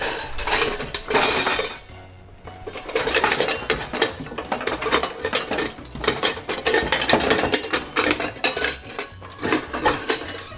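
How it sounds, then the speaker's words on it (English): Metal pots, pans and cutlery clatter and clink on a kitchen stove, dense busy rattling and scraping throughout with a short lull near the start, no voices. "It turns out we have the right pans on the stove already."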